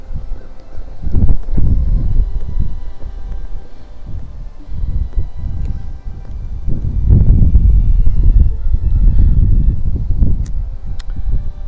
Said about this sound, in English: This wind is making it hard to light my pipes today